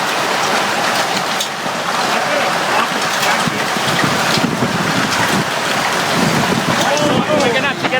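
A massive hailstorm pounds down in Brisbane, a loud, dense, continuous roar of hail and wind battering surfaces close by for the whole stretch, with brief voices breaking through the din.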